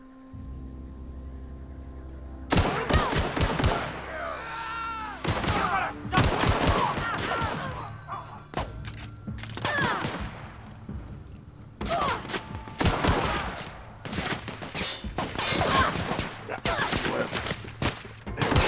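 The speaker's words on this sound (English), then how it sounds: "Machine gun." Bursts of machine gun fire in the video game The Outer Worlds 2, loud rapid volleys starting after a quiet moment and recurring in clusters across the scene, with brief gaps between bursts.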